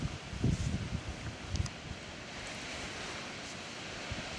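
Wind rushing over an exposed mountain ridge, a steady broadband roar with a couple of stronger gusts buffeting near the start, heard from a sheltered spot just below the crest with no talking.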